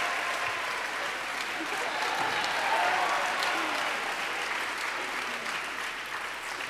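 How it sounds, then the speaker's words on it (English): A crowd at the Mr. Carmel 2023 pageant applauds the contestants, sustained dense clapping from a large audience filling the room, steady and moderately loud throughout. "Please give our boys a final round of applause for their outstanding performances"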